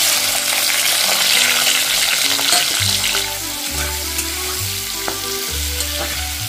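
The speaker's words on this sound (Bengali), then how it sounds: "তেলটা গরম হয়ে গেছে, চিংড়ি মাছগুলো দিয়ে দিচ্ছি ফ্রাই করার জন্য" Prawns go into hot oil in a wok for a jackfruit-prawn curry, a loud continuous crackling sizzle, with a few low thumps and bubbling bursts as the oil settles, all close and without voices.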